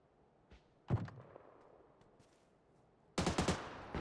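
Gunfire in PUBG: Battlegrounds as shots pop out vehicle tires down the road, a single sharp report followed by a quick cluster of several shots, moderately loud against quiet ambience.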